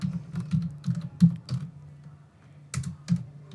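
Someone types on a computer keyboard while entering the body text of an SMS notification for a WooCommerce store, with irregular bursts of close, crisp key clicks separated by short pauses.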